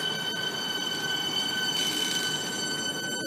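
A Melbourne suburban electric train pulls out of Seaford station with a loud, steady rumble, a high whine and some squealing from the wheels, heard up close on the platform with no voices.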